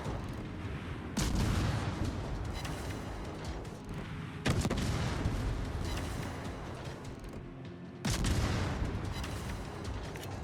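Warship guns fire during a naval video game battle, three heavy booming salvos spaced a few seconds apart over a constant rumbling backdrop of distant gunfire, with no voices.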